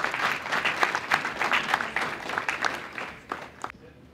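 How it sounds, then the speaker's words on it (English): A crowd at a Human Dignity Week 2024 gathering applauds itself, brisk close clapping with individual claps standing out, tapering off near the end. "how about a round of applause for yourselves"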